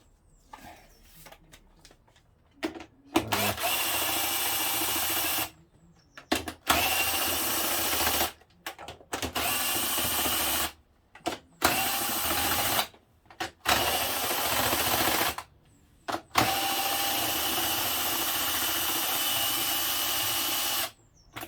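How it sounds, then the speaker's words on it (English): A power drill whirs in repeated bursts of a few seconds each while removing a Kawasaki ZX6R J2 motorcycle's carburetors, separated by short pauses, loud and close. "this drill really comes in handy for this"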